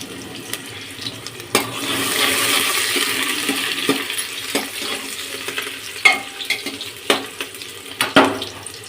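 Onions frying in a pan with cumin, a continuous sizzle broken by sharp metallic scrapes and clinks of a spoon stirring against the pan.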